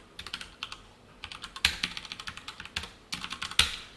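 Rapid keystrokes on a computer keyboard while coding a Java text message board, heard alone and close, in irregular bursts with a few louder, sharper key hits.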